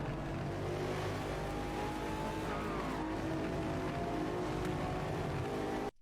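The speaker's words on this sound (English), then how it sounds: "that external view of the car here, if you listen to it, it looks like they've actually done a bit more work on the engine sounds" A car engine in the Forza Motorsport video game, heard from an external view as a loud, steady droning roar with a faint rising whine, continuous before stopping abruptly at the end.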